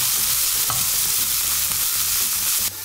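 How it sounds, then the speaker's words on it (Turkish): Small shrimp frying in a hot pan for a chickpea salad give a steady, loud sizzle with light stirring scrapes throughout, the frying continuing to the end at a slightly lower level. "Şimdi çok büyük değil karidesler, çok hızlı pişecek."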